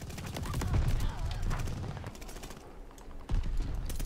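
Gunfire in Call of Duty: Vanguard, rapid bursts of shots crackling in quick succession, loud and close, with a brief lull before another burst.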